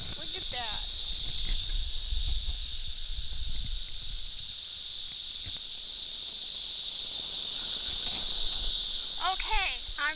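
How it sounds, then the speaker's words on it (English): Cicadas buzz steadily in a tree-filled forest, a loud continuous high drone throughout, with brief chirps and rustling near the start and end. "cicadas. Look at this. Look, they are beautiful and interesting and flying around everywhere."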